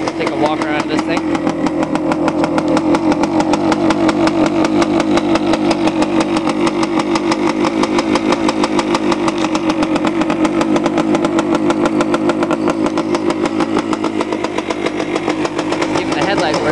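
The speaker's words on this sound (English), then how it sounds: "Wow, second kick and it started." A 1971 Yamaha 175 motorcycle engine idles steadily after a kick-started cold start, a close, loud, even putter that runs throughout, with brief talk over it.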